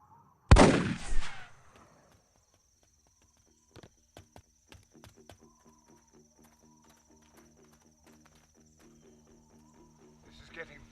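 Single loud rifle gunshot in an action movie, a sharp close blast with a brief decaying tail, followed by quiet scattered clicks and faint background.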